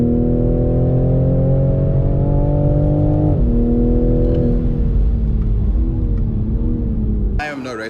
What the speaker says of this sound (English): Sorry, it's a loud car.